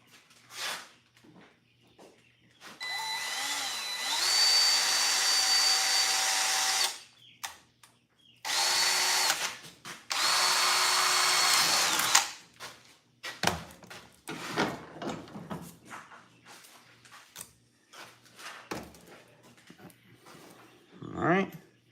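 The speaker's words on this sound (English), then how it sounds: "I drilled a hole too big" A power drill boring a hole through thin sheet metal for a stainless steel rivet in a workshop, in two loud sustained whining bursts of several seconds each, followed by scattered clanks and handling noises.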